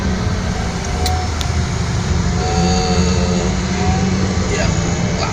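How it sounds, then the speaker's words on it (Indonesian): Low steady engine rumble from trucks and cars crawling in a night traffic jam on a mountain road at Cadas Pangeran, close and continuous, with a voice speaking over it. "Tapi sayangnya kita ini macet karena malam hari dan banyak truk ya"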